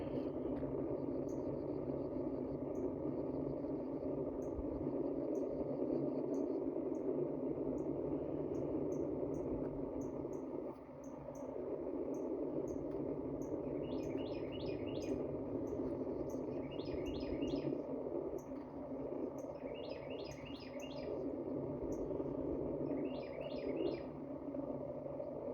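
Small birds in winter woods give short chirping bursts that repeat at intervals. The chirps sit faint and fairly distant over a steady background rush, with no one talking.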